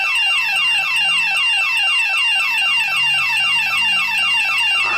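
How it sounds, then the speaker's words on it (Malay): A loud alarm clock rings continuously, its rapid repeating electronic warble running steadily throughout with no pauses or talk. "bunyi alarm tu macam nak mampus esok"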